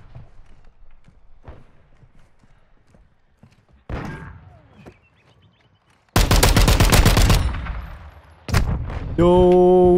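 Light machine gun in semi-automatic mode with a shortened barrel fires in a video game, a dense burst of rapid loud shots for about two seconds, then another sharp shot, amid in-game ambient noise and movement sounds.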